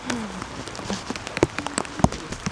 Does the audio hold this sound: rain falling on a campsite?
yes